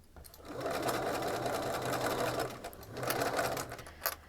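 A sewing machine runs while stitching a rain cape, two steady whirring bursts of needle motion separated by a short pause, close and moderately quiet.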